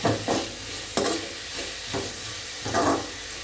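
Ingredients for biryani heating in a little oil in a pan, several short bursts of sizzling and stirring scrapes about once a second, close and fairly quiet, with no talking.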